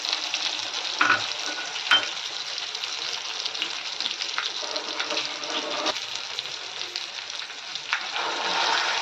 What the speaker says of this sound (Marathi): आणि आता हे प्रॉपर असं मिक्स करून घ्यायचं तेलामध्ये असं फ्राय करून घ्यायचं